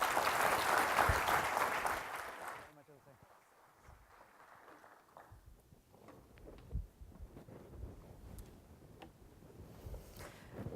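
An audience at a conference presentation in Toronto applauds to welcome a speaker to the stage. Dense clapping fills the opening seconds, then cuts off, and sparse taps, rustling and faint voices follow.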